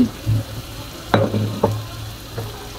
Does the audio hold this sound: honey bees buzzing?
no